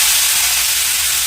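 Tomatoes sautéing in hot oil in a pan for curry leaf chutney give off a steady, close, broadband sizzle and hiss that holds evenly throughout, with no talking.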